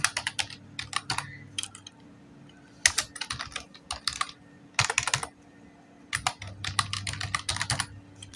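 Fingers type on a computer keyboard in quick bursts of close, crisp key clicks separated by short pauses, with no speech.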